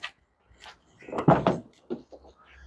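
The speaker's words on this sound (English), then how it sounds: "So go ahead, open up the door." The door of a 2015 Scion xB swings open with a few short latch clicks and clunks, close and fairly clear, with no one talking over it.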